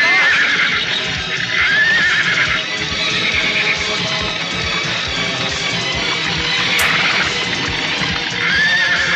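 A horse neighs and whinnies loudly during a Bollywood action film scene, with hooves clip-clopping and dramatic background score underneath, no speech.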